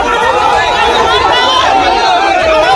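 Angry crowd of Sandeshkhali villagers gathering at a TMC leader's house, a loud dense roar of many shouting voices and chatter that continues without a break, close and filling the scene.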